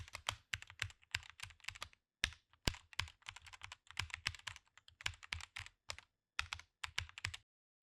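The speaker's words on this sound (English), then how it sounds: "In the search bar, type Smart Money Breakout Channels" Quick, crisp keystrokes on a computer keyboard as a search term is typed, coming in close bursts of clicks with short pauses between words, fairly quiet and with no voice.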